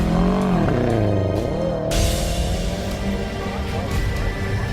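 A Subaru rally car, formerly a circuit racer, runs on a dusty gravel rally stage, its engine rising and falling in pitch through revs before a sharp burst of noise, with some faint talk underneath.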